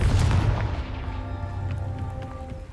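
A spell explosion in Hogwarts Legacy: one heavy booming blast at the start that slowly decays into a lingering rumble with faint ringing tones, heard alone.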